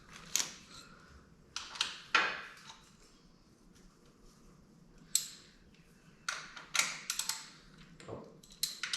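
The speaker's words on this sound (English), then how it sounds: "Let me just ratchet that on." A hand ratchet tightens the through bolts on aftermarket nerf bars fitted to a 2006 Yamaha Raptor 700 ATV, giving bursts of close, dry clicking separated by short pauses, with no talking.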